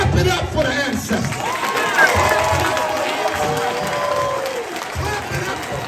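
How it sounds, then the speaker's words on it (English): A crowd claps and cheers at a live gathering, a loud continuous wash of applause with shouts and voices mixed in throughout. "clap it up for the ancestors."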